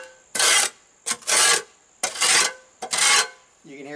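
A tool scrapes caked debris from the edges of concrete in four rasping strokes of about half a second each, evenly spaced and close, with a faint tonal hum in the background.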